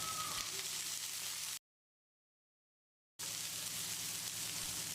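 Steady sizzling of shallots, onions and garlic frying in oil, a dense hiss that cuts out for a moment and then resumes just as loud.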